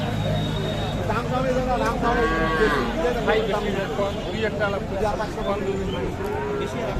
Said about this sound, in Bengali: জোয়ান জোয়ান গাভী